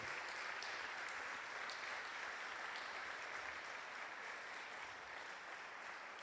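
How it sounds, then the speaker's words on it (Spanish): Audience applause fills a church during a sermon, a dense steady clapping that carries on evenly for several seconds with no talk over it. "¿Cuánto le da un fuerte aplauso a Dios?"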